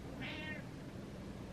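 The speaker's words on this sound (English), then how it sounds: "Meow. Meow. Meow." A cat gives a single short meow, clear but fairly quiet, over a soft background hush.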